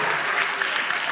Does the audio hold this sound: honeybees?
no